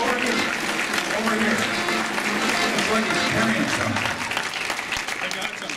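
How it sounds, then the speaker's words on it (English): Sustained applause from a crowd at an anniversary show as a sponsor representative walks up to the stage, with a host calling out briefly over the clapping, which tapers slightly at the end. "Give him a big round of applause as he comes up."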